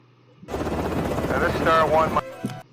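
Loud, continuous rotor thump and engine roar of a helicopter in a scene from the film Tears of the Sun, mixed with rapid gunfire-like bursts and music, cutting off abruptly near the end.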